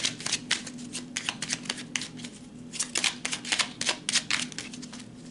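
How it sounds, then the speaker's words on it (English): Tarot cards are shuffled and drawn by hand in a brisk run of crisp riffling, snapping bursts, each close and fairly loud over a low steady hum, with no talking. "let's pull one final card, Virgo."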